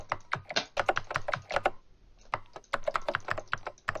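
Rapid mouse and keyboard clicking while playing the computer game Organ Trail, in two dense bursts of close, sharp taps separated by a short pause, with no talking.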